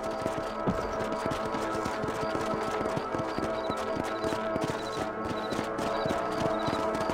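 Horses' hooves in Red Dead Redemption: steady, rhythmic clip-clop of mounted horses trotting on open ground, close and continuous for several seconds over a low ambient hum, with a faint musical tone in the background.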